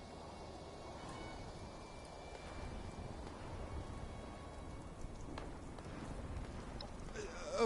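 A thunderstorm with steady rain in Fallout 76, a dense hiss of rainfall with low rumbles underneath, faint and constant with a slight swell near the end, under a speaking voice.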